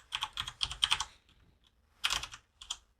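Keystrokes on a computer keyboard, tapped in two quick bursts of typing separated by a pause, close and moderately quiet with no talk.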